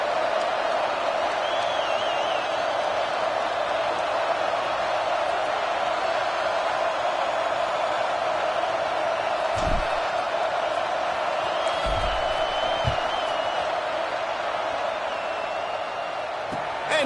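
A college football stadium crowd at CU versus Notre Dame keeps up a steady, dense roar before kickoff, with a few dull thumps and faint voices mixed into the wash of noise.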